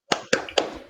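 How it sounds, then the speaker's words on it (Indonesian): Three sharp, close hand claps in a quick, even rhythm make a classroom spirit clap during a peer-teaching lesson, each one crisp and loud with a short tail. "Tepuk semangat."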